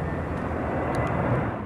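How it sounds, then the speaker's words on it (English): A firefighting air tanker flies over a massive California wildfire under smoky skies, its engine roar a steady, continuous drone throughout the brief stretch. "They're also relying on air tankers and helicopters to attack the flames from smoky skies above."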